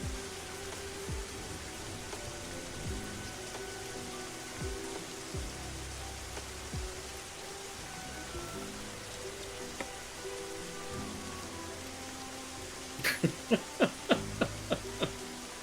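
Gentle rainfall patters steadily in Turtle WoW, a soft continuous hiss, followed near the end by a short run of sharp, evenly spaced clicks or taps.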